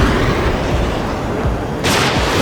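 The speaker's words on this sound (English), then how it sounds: "Missile launched." Missile launch in the combat flight game Ace Combat 7: a loud sustained roaring rush that swells into a sharper, brighter blast near the end.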